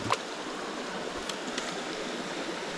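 A small creek with brook trout flows steadily, a soft continuous burble of running water close by, with a couple of brief knocks and no talking.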